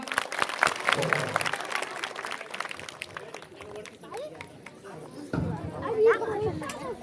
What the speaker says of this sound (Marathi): टाळ्यांचा कडकडाट होऊन जाऊ दे एकदा.